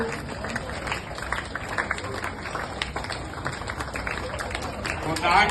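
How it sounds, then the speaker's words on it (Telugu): An audience claps loudly and steadily at a Vinayaka Chavithi devotional song, with dense applause running throughout and crowd babble mixed in. "కొన్ని గట్టిగా చప్పట్లు కొట్టండి"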